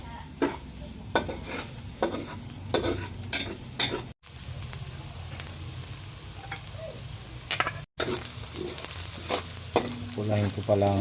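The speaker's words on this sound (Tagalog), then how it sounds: "Papulahin ko pa po ng kaunti itong bawang at lalagay ko na yung karne." Garlic frying in a pan for chicken menudo, a steady sizzle broken by repeated sharp scrapes and clinks of stirring, close and fairly loud, with no talking.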